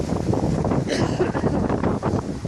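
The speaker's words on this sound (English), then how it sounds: "But it's very, very windy." Steady, heavy wind buffeting the microphone while walking down a river valley in Scotland, a constant roaring rush with gusty swells throughout, no clear talking.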